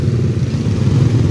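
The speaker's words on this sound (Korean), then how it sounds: "모터사이클이 올라갑니다." Motorcycles riding up onto the sidewalk on a Laos morning street, a loud, close, steady mid-pitched engine drone with a slight throbbing rhythm through the brief moment.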